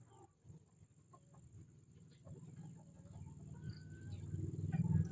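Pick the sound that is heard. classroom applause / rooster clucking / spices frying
rooster clucking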